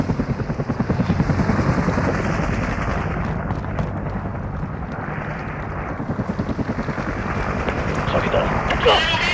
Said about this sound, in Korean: 헬기가 노리고 있어.